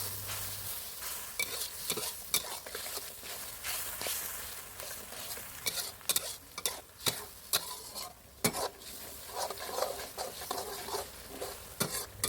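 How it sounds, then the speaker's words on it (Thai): Red curry paste stir-fried in a pan for a Thai fried mackerel dish, with a steady sizzle under repeated scraping and scooping of the spatula, close and continuous, no talking. "ผัดพริกแกงให้เข้มข้นเลยนะครับ"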